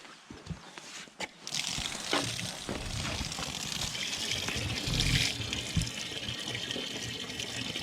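Water runs from a campsite tap at Kesh campsite in a steady trickling splash, starting after a few clicks and bumps and continuing loud and close to the end.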